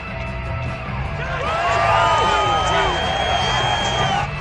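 A football stadium crowd cheering early in a game as the home defense holds on the opening drive, a loud sustained roar with whoops and shouted voices rising and spreading across the stands, heard close and continuous.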